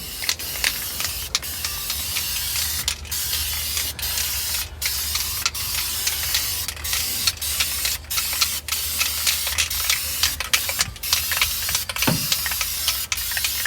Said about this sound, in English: we're gonna shoot the gray.